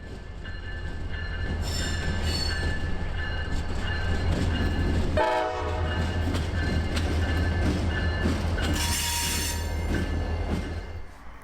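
A local freight train on the Brooksville subdivision in Central Florida rumbles steadily past with heavy low roar, wheels clacking and squealing, and a horn-like tone rising midway; loud and continuous throughout.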